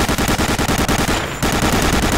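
Automatic gunfire aimed at the player in Medal of Honor: Allied Assault, loud rapid machine-gun bursts in an even rhythm, briefly pausing midway before resuming.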